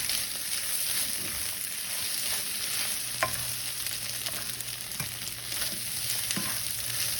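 Eggs fry in a pan for chilaquiles, a steady close sizzle under repeated scraping stirs of a utensil, with a few sharper clicks against the pan and no talking.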